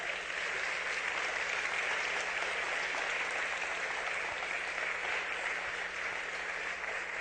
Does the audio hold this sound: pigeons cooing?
no